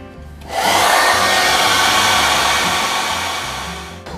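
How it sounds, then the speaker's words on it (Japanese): A hair dryer blows hot air onto a wet decal coated with softener on a Tamiya 1/35 M4A3E8 Sherman model, a loud steady whooshing roar that starts abruptly, runs close and constant, then switches off. "これをドライヤーで温める"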